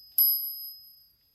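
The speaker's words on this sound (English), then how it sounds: "It's cool to figure out how the margin bell works." A typewriter's margin bell gives a single bright metallic ding that rings out clearly and decays slowly over about a second, alone with no other sounds.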